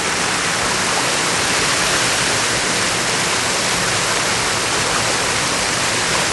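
Water running steadily at the Mormon temple in Salt Lake City, a loud, continuous rushing splash like a fountain or small waterfall, close by with no voices.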